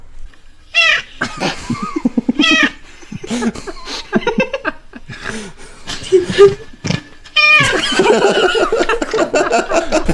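Cat meowing repeatedly in short harmonic cries, close and fairly loud, with people laughing and chattering around it and a burst of louder mixed noise near the end.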